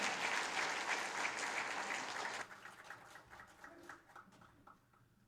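A church congregation applauds warmly to welcome two pastors to the front, dense clapping that holds steady and then thins out into scattered claps, with faint voices underneath.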